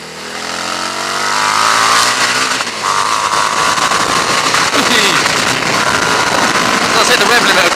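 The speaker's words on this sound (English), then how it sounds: "Does hit the rev limiter quite easily in the first few gears." A Harley-Davidson Street 750 motorcycle on a fast road test, its engine revving hard and climbing in pitch through the short lower gears to a sustained loud roar, close up, with heavy wind rush.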